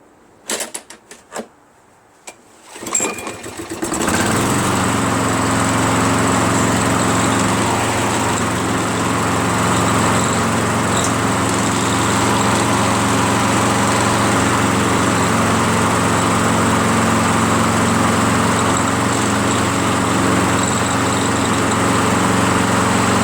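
A Briggs & Stratton Quantum engine on a Toro Recycler lawn mower, converted from an auto choke to a primer bulb. After a few short sputters it catches and settles into a loud, steady, close running drone.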